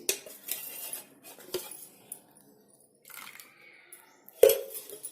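Metal utensils clink and scrape in a pan as ingredients for restaurant-style chicken angara are mixed with oil, a few sharp close knocks among softer stirring scrapes.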